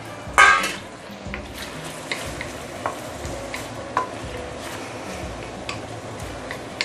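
Pork belly pieces hiss and crackle as they hit hot melted caramel in a pan, with a sharp burst at the start settling into steady faint sizzling broken by small ticks and pops.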